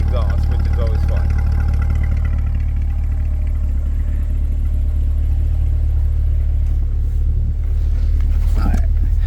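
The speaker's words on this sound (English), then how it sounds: "has a more throttle, more louder tone to the exhaust, which is always fun." A 2023 Chevrolet Corvette 2LT engine and exhaust produce a loud, steady low rumble throughout, with a brief rise near the end.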